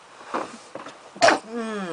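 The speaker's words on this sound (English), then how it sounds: "I'm about to sneeze." A man's single sharp sneeze bursts out near the end, after a stretch of quieter speech and just before he starts talking again.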